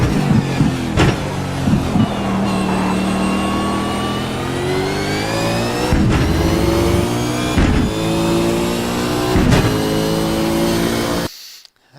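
A race car on the Motegi circuit downshifts to second gear and then accelerates out of a corner. The engine's loud, rising whine builds in pitch, with brief dips at each gear change before it cuts off at the end.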